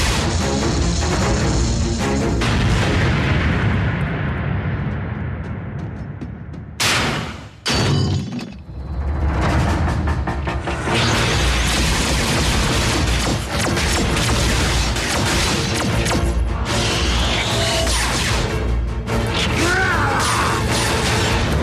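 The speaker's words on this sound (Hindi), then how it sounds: "इन्हें धमाके से उड़ाने की इजाजत है चीफ?" A loud explosion blasting robots apart in the animated series Transformers Prime, with a dense roaring boom, crashing debris and rumbling that fill the scene, a brief dip, then sustained blasting and clatter.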